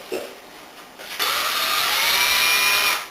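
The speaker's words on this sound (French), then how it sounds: "là je vais donc percer avec une mèche comment dire la trajectoire pour la vis" A power drill bores a pilot hole for a screw in wooden planks for a small garden planter greenhouse frame, with a brief start followed by a loud, steady whine lasting a few seconds.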